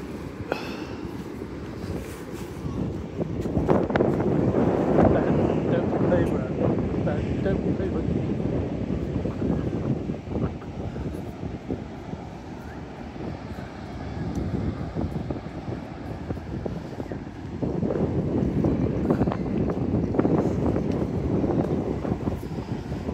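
Steady wind buffeting the microphone at Poldhu Beach on the Lizard in Cornwall, a continuous low roar that swells and eases over the whole stretch.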